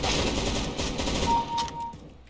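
A hard-recoiling weapon in CS:GO fires a rapid, continuous burst of loud gunshots almost throughout, then tails off at the end.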